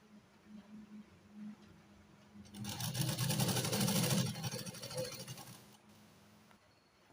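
A sewing machine runs while stitching a square seam on a simple kurti, a steady mechanical whir building from about the middle and holding for a few seconds before tapering off, with no voices.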